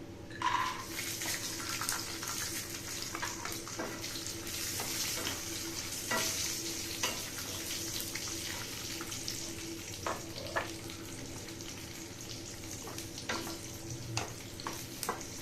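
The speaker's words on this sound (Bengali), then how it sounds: "এখানে রাখা আছে গোটা কাজু আর কিশমিশ, সেটা আমরা দিয়ে দেব তেলে।" Whole cashews and raisins fry in hot oil for veg pulao. A steady sizzle runs throughout, with scattered light scrapes and taps as they are stirred. The sound is close and fairly quiet, with no voices.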